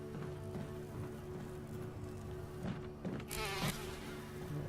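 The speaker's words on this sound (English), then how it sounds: "Oh, lovely bees." Bees in the video game Resident Evil HD Remaster give off a low, continuous droning hum with a few louder swells, heard alone at moderate volume.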